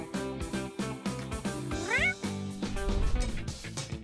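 Cat meowing in an animated story about CatNap, a drawn-out rising meow heard over busy background music, with no talk.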